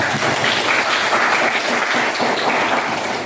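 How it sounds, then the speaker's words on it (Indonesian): Students in a high school classroom give a steady round of applause, dense clapping from many hands at an even level throughout. "berikan tepuk tangan aku"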